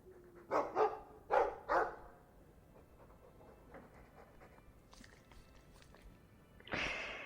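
A Mabari war dog in the fantasy game Dragon Age II lets out three loud, close barks in quick succession, followed by quieter ambient sounds and a burst of noise at the end.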